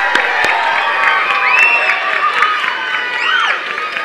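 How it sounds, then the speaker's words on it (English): A crowd at a vacation Bible school closing claps and cheers with scattered whoops and shouts, a lively burst of applause that tapers slightly toward the end. "Give yourselves a round of applause."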